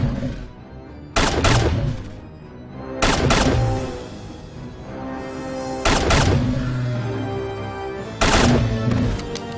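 Video game gunfire in the Pit fan mod, heard as several loud, separate bursts spaced a couple of seconds apart over a steady low background, with no voices.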